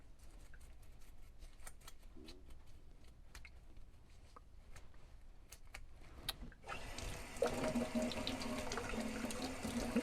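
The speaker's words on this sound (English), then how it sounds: "Don't need that much water, just to get the lacquer thinner off." A tap is turned on and water runs into a sink to rinse lacquer thinner off a stripped diecast model car door, a steady rushing flow starting partway through after a few faint clicks and handling sounds.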